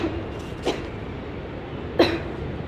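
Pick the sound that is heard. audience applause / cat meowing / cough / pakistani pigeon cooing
cough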